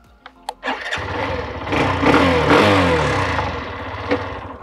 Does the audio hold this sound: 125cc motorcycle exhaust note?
yes